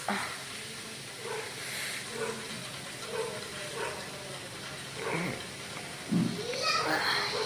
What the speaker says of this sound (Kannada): ಕುಕ್ಕರ್ ಕೂಗ್ತು.